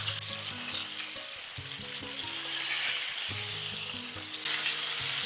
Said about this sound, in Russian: У меня рыба большая, поэтому я буду жарить ее примерно минут 15.